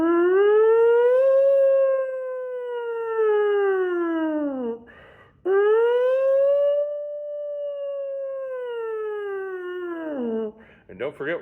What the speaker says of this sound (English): This is just buzzing slowly up and down, starting kind of in your medium range and gradually expanding.